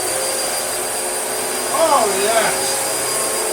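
A restored original 1998 Dyson DC01 vacuum cleaner runs steadily on a rug, a constant high whine and airy rush, with a short exclamation voiced over it midway.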